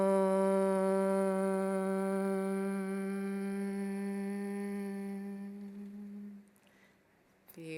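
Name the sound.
group chanting OM in meditation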